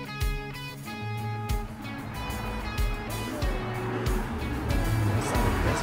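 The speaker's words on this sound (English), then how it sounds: "Yeah, look at those cars." Racing cars roar and whoosh through a Team Sonic Racing video game trailer, engine tones rising and falling with bursts of effects, loud and continuous.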